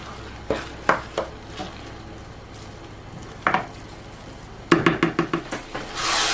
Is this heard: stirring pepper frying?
yes